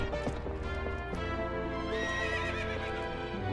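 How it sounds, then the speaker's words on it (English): Horse galloping in The Legend of Zelda: Twilight Princess HD, with steady clip-clop hoofbeats, a neigh and game music playing throughout, close and clear. "Our trusty steed is once more by our side."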